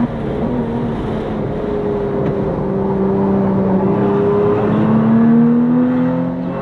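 Lotus Emira sports car on a race track, engine note rising and falling through gears with whining revs and a strong acceleration surge, continuous and fairly loud from inside the car.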